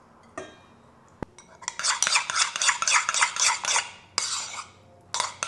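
A utensil stirs salad ingredients in a bowl: close, rhythmic scraping and clinking strokes in quick bursts, a short pause, then a few more strokes, with no talk.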